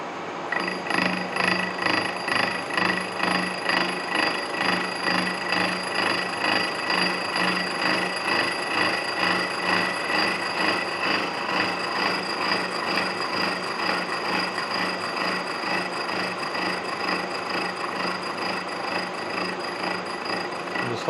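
A gear-cutting machine works the teeth of a steam engine governor gear for a Rumley Oil Pull, producing a steady, loud, rhythmic rasping grind with regular pulses that continues without pause throughout.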